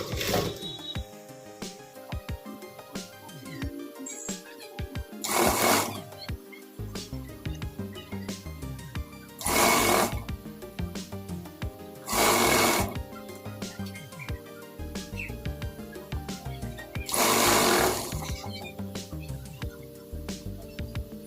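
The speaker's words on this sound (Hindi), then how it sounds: "अब इसको इस तरह से रखकर हम इस पर सिलाई लगा लेंगे आधे इंच के दबाव से" A sewing machine stitches a salwar waistband with a half-inch seam, running in four short bursts of about a second each, separated by quieter stretches of fabric handling.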